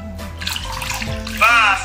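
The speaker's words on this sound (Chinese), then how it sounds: "首先把糯米清洗干净，进行过滤是否有沙子。" Glutinous rice is washed in water to rinse out any sand, part of traditional New Year food preparation in Maoming, Guangdong. Close sloshing and splashing water continues throughout, with a voice speaking briefly near the end.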